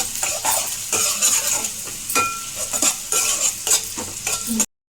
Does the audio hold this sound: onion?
yes